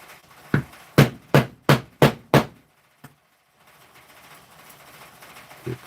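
Hammer strikes on a leather strap and stud punch, six sharp, evenly spaced blows ringing out close and loud, followed by one faint tap, then quiet shop ambience.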